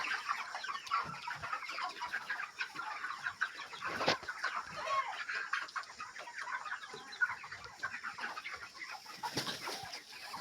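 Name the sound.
chickens clucking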